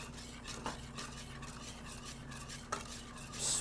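Pumpkin bisque ingredients with herbs, spices and ground nutmeg are stirred in a pot, a soft continuous scraping swish with a couple of faint utensil knocks, over a low steady hum.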